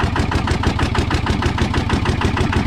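Farm tractor fitted with a stylish modified racing exhaust pipe idles steadily, its engine a loud, close, throbbing low rumble with regular pulsing and no talk.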